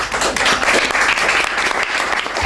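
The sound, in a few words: audience applause for the speaker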